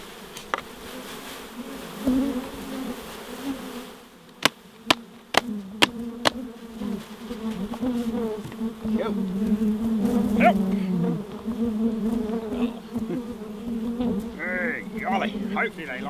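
Swarm of agitated honey bees being transferred from a bee vacuum into a new hive, a dense continuous buzz close by with a few sharp knocks and someone talking over it.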